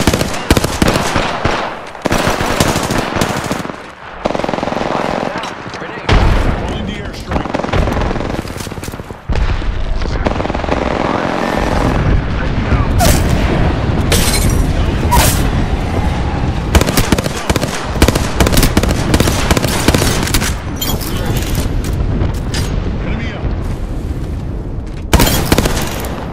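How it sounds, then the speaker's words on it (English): Apex Legends gameplay is full of loud, dense booms and rapid gunfire, with grenade blasts mixed into near-constant bursts of shooting, dense and continuous throughout. "Grenade."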